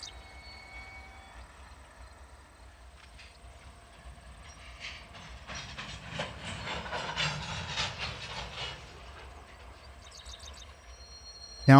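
A Union Pacific grain train pulls onto the main line, its railcars rolling past with rhythmic clanks and squeals that build toward the middle, then taper off, with a sharp bang at the end.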